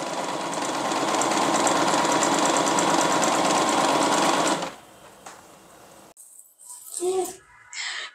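A home sewing machine stitches a simple child's dress, running loud and steady with a rapid mechanical whir for about four and a half seconds, then stopping, followed by a few faint clicks and handling sounds.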